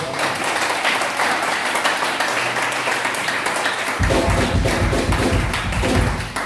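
A church congregation applauds and cheers in praise of God, a steady wash of clapping and voices that swells sharply into louder, denser hand claps and shouts partway through.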